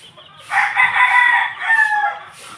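A White Kelso gamefowl rooster crows loudly and close in one drawn-out call, with faint peeping and clucking from nearby chicks around it.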